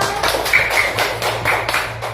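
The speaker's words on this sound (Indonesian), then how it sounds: "Tepuk tangan untuk Adila" A classroom of students claps for a classmate after her answer, a short burst of scattered, uneven hand claps close by over a low steady hum.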